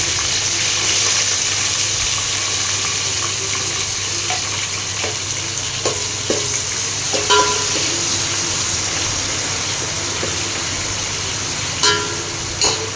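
Green chillies sizzle in hot oil for a chicken curry, a steady close frying hiss running throughout, dotted with small pops and light stirring clicks, with no talk.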